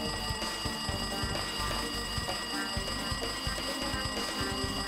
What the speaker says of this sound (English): It looks like that phone is ringing.